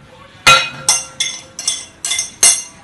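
Pieces of cut pear, apple and banana drop into a bowl, giving six sharp clinks spaced about every half second, close and bright with quick decays.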